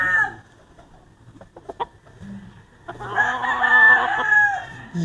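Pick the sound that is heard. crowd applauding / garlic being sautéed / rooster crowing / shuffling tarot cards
rooster crowing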